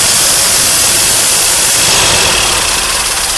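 A 1982 Chevrolet Corvette C3 engine, long left to sit outside, runs loud and close as the throttle pedal is pressed, a steady roaring rev that swells slightly toward the end with no voices.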